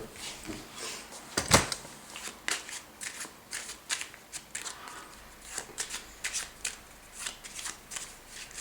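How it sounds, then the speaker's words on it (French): A deck of playing cards is shuffled for a card trick, with repeated crisp riffling bursts and soft slaps close up, one sharp loud snap near the start, then a steady run of flutters. "un jeu de cartes avec des cartes mélangées, qu'on peut nous-mêmes mélanger et donner à mélanger à un spectateur"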